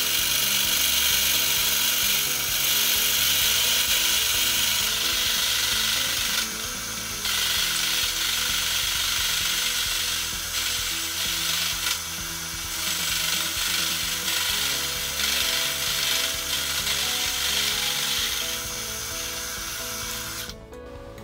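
A milling machine cuts an aluminum bicycle frame part held in a vise, with kerosene as cutting fluid, giving a loud, steady mechanical whine and grinding drone that runs almost unbroken before cutting off at the end.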